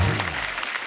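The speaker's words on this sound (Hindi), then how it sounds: "जोरदार तालियां हमारे मेहमानों के लिए" Studio audience applauding guests arriving on an Indian TV comedy talk show, a dense burst of clapping that is loudest at the start and fades slightly over the second, with no talk over it.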